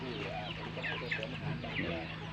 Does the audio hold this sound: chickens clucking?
yes